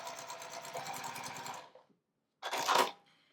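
A sewing machine runs close and loud as quilt squares from scraps are joined, one sustained whirring burst, a brief silence, then a second short burst.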